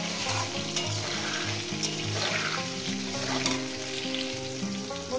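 Potatoes fry in hot oil for a home-style Bengali aloo kosha, a steady close sizzle with occasional stirring scrapes and a low tonal hum running beneath, no voices.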